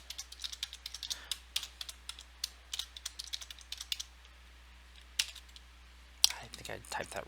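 Typing on a computer keyboard during administrative account setup work, bursts of quick close key clicks with short pauses between, fairly quiet, with a few louder taps near the end.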